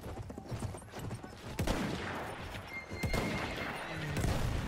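Horse whinny from the Battlefield 1 video game, a loud neigh rising out of battlefield noise with scattered gunfire, crashes and clattering hooves across the few seconds.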